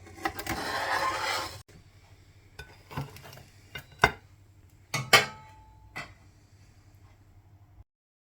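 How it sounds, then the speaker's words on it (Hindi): Frying-pan chicken pizza with lightly browned cheese is moved into a serving dish: a second of broad scraping, then a handful of sharp, separate clinks and taps of utensil on cookware against a quiet room, with no talking. "अब तैयार है, हम सर्विंग डिश में निकाल लेते हैं।"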